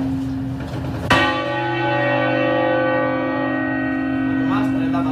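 Large church bells are rung by hand in the Ribera del Duero, one loud clang followed by a long ringing hum that slowly decays. A fainter strike comes near the end and is partly masked by background noise.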